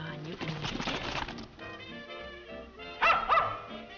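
A dog gives a few short yips and barks over a 1930s film soundtrack, with music and voices running underneath and a sharper burst of barking near the end.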